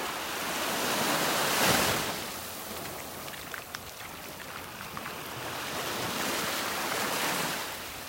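Steady hiss of rain pattering on open sea water at a beach in North Naples, Florida, broad and continuous, swelling slightly in places, with no voices.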